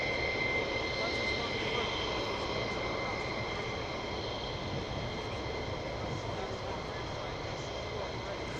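A military jet departing RAF Lakenheath during surge operations, a distant, fairly faint continuous engine roar with a high whine that holds steady throughout, and speech faintly over it.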